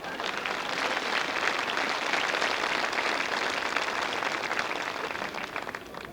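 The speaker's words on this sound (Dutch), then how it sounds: "Applaus." Wedding guests at a 1989 rural farm-themed wedding applauding in a dense, steady wash of many hands, unbroken for the whole stretch and fading slightly at the end.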